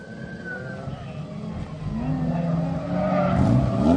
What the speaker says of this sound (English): some drift action going on here